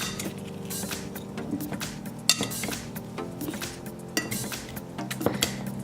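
Steak and mixed vegetables stirred together in one pan, utensil scraping and clinking against the metal in a steady run of taps and knocks, fairly quiet with a constant low background hum and no talk.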